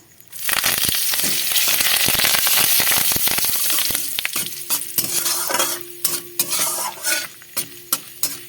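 Asafoetida and curry leaves crackle and spit in hot oil for a tempering for coconut chutney, a loud dense sizzle that settles into sharp intermittent pops near the end.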